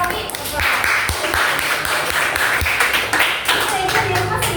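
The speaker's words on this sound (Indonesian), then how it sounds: "tepuk tangan dong." A small group of people claps hands in brief, uneven bursts in a room, with voices talking over and around the clapping.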